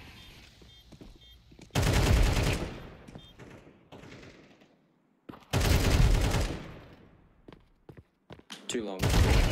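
Loud automatic gunfire from a video game comes in two long bursts with a quieter gap between them, then a final short burst, over faint player chatter.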